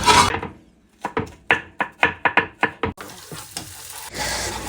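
Fried rice is stir-fried in a pan, heard as a quick series of sharp, rhythmic scraping strikes of a spatula, followed by a steady sizzling hiss.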